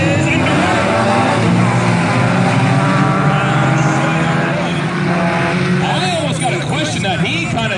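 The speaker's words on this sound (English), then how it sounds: "Heat Race 1A for the Team Auto Sales 4 cylinders is underway." A pack of ten four-cylinder race cars roars off at the start of a heat race at Valley Raceway, engines revving loudly and continuously up and down under a constant announcer's commentary.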